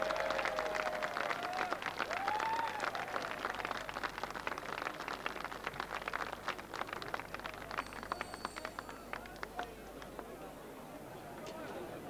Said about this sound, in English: Reference Point isn't quite used to this round of applause,